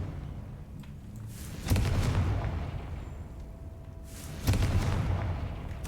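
Two loud, deep explosive blasts from the Confringo fire spell in the Hogwarts Legacy game, each a sudden boom that rumbles away over a few seconds against a steady low background.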